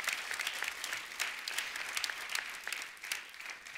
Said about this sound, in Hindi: जोरदार तालियां विशाल के लिए